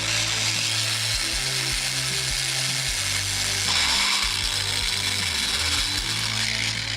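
Small power drill boring a hole in the brake pedal of a Porsche 996, loud and close: motor revving in repeated bursts that rise and drop in pitch as the bit bites into the metal.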